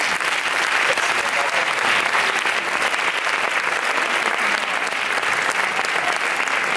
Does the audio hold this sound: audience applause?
yes